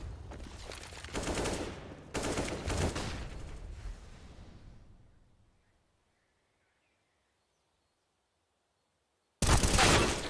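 Bursts of rapid video game gunfire during an esports match, two loud sustained volleys that fade to near silence before another sharp burst at the end.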